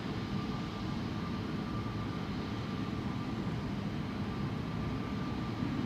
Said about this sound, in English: Right now it is time for the E2 Embraer to take off